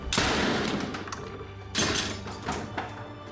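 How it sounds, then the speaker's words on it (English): Rifle shots ring out in a film scene, three sharp cracks with short echoing tails, the first loudest and the later ones fainter. "Stephen takes the rifle and also closes his eyes. He spins around and shoots at a random place."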